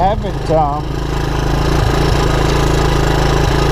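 A 1984 Honda ATC 200ES three-wheeler idles steadily, its engine a close, even, low putter that never rises in revs, with a brief voice at the start.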